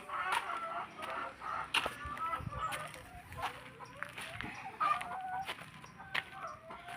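Farm hens clucking and pecking at feed set out at a farmhouse, several birds chattering at moderate distance with a rooster-like call among them.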